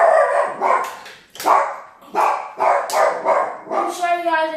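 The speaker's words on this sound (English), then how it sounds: "That's our dog barking in the background." A pet dog barks in short repeated bursts close by, the barks spaced about a second apart and ending in a higher yelping whine.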